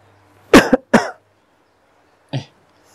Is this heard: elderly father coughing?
yes